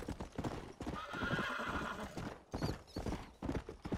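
A war horse in the Red Dead Redemption video game neighs loudly and its hooves clip-clop steadily nearby, the whinny rising over the hoofbeats, with no talk.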